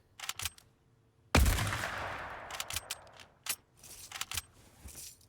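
A single loud hunting rifle shot in the video game Fortnite, cracking sharply and fading into a long rolling echo. Quieter clicks and footstep-like clatter come before and after it, with no talking.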